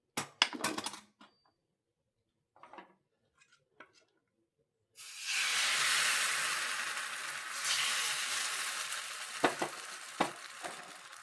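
Neer dosa batter hitting an oiled pan without a dosa tawa gives a sudden loud, broad sizzle that holds steady for several seconds, after a few quiet clinks and handling sounds, with a couple of sharp taps near the end.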